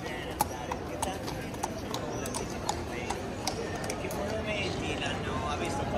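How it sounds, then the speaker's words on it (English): A horse's hooves clop on cobblestone streets in an old European town, a near, steady run of sharp hoof strikes over a murmur of voices and outdoor bustle. "The horse is clopping his hooves."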